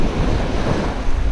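Ocean surf on a beach in Naples, Florida, clear water offshore: a steady, loud wash of breaking waves mixed with wind rumbling against the microphone, continuous with no talking.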